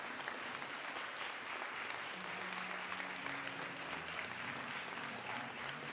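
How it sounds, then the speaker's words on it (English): Steady applause from a congregation at an evening church service, a union district annual session, honoring three recipients; even, sustained clapping fills the hall throughout, with faint voices underneath. "Let's give these three recipients another hand clap of appreciation."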